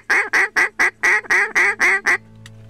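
Ducks quacking in a run of nine loud, close, evenly spaced calls over about two seconds, then quiet, heard during a hunt.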